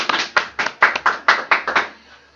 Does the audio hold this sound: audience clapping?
yes